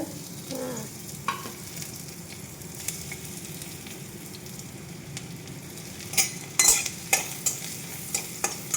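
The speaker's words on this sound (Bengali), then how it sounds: "तेल गरम हो चुका है, लहसुन ऐड करेंगे।" Garlic drops into hot oil for a tempering over a curry of green banana, a soft, low sizzle with light stirring, then sharper spatters and clicks of the utensil toward the end, close and fairly quiet, no voices.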